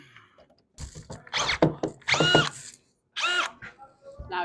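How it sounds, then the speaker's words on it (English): A power drill drives screws into drywall board, giving several close whirring bursts of a second or so, separated by short pauses and ending in tightening bites. "Now he's screwing at the very top of the drywall"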